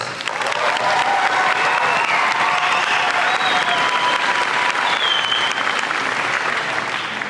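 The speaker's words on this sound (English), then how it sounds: "a big applause for 2026" A large crowd at an Española Valley High School graduation ceremony applauds the class of 2026, a loud, continuous wash of clapping with faint cheers and whistles mixed in throughout.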